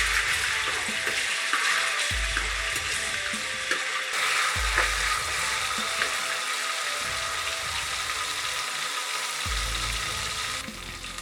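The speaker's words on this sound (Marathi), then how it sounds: "आता त्यामध्ये आलं लसूण मिरची पेस्ट घालत आहे आणि लसूण घालत आहे आता व्यवस्थित परतवून घेऊया" Ginger, garlic and chili paste with garlic sautéing in a pan, a steady bright sizzle with scraping stirs and periodic low clanks of the spatula, close and continuous.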